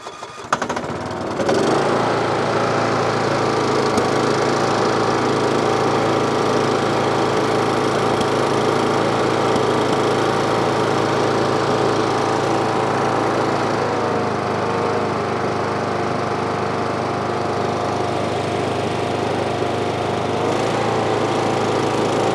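A Cub Cadet riding lawn mower engine starts up after a brief sputter and then runs at a steady, loud, continuous drone up close, with no talking over it.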